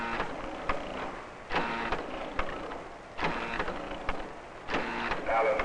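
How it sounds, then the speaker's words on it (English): A 1970 factory pie machine adding apple filling clanks and whirs in a steady mechanical rhythm, with repeated louder bursts roughly every second or so, close and busy. "A different machine adds the apple filling."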